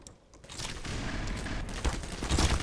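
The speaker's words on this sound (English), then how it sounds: "Did you fire a rocket at me?" Rockets and weapons fire in the Black Mesa video game make a dense, loud roar of blasts and gunfire that builds steadily, with heavier booms near the end.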